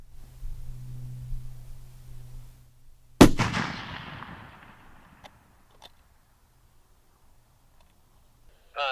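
One sharp, loud precision rifle shot fired at a 600-yard target on an outdoor range, booming with a long rolling echo that fades into quiet, after a low steady hum.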